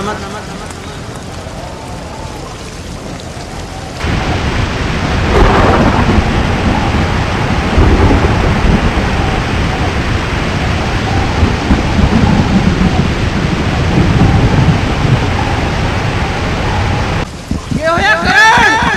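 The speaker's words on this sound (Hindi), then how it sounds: "बारिश हो रही है" Heavy rain roars steadily with deep rumbling thunder rolling underneath, while voices shout faintly in the background.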